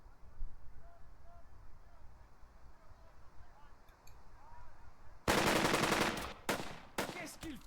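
Gunfire in the WWII tactical game Burden of Command: after a quiet, faint ambient stretch, loud bursts of rapid automatic rifle and machine-gun fire erupt in several close volleys with short gaps between them.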